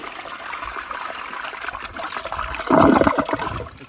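A 2005 Briggs Altima toilet flushes with a grocery bag ripped in half in the bowl, steady trickling water building to a louder gushing rush near the end, close by with no talk.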